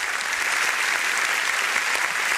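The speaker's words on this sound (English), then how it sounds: "So they deserve very reasonable applause" A conference audience at a QHSES leadership event gives continuous, even applause, a dense wash of clapping heard steadily at close range without a break.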